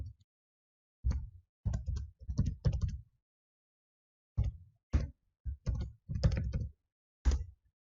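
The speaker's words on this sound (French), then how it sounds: "J'appuie sur Entrée." Keys are typed on a computer keyboard in short, close clusters of soft clicks separated by pauses, ending with a single firmer press of the Enter key.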